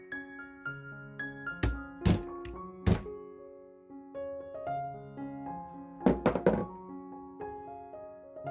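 Sharp metallic knocks strike the screws of a Mercedes Sprinter Euro 5 alternator as a tool loosens them. They come as single hits and then a quick cluster, over a steady tonal background.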